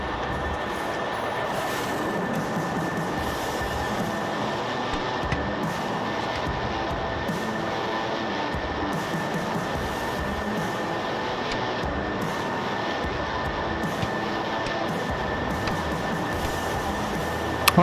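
A flight video game aircraft's engine drones steadily while taxiing, a constant broadband roar with a fixed whine that stays level throughout and has no talk over it.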